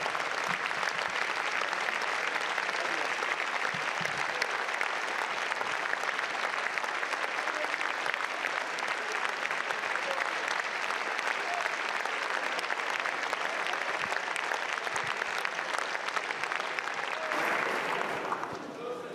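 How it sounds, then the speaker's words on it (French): Sustained, dense applause fills the French National Assembly chamber for a retiring deputy, a steady loud roar of clapping from many hands that fades slightly at the very end. "les applaudissements nourris à l'endroit de Monsieur Chassaigne"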